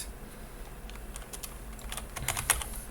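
Steady computer keyboard typing while code is written, with irregular clicks that thicken into a quick cluster of keystrokes toward the end, close and fairly quiet, with no voices.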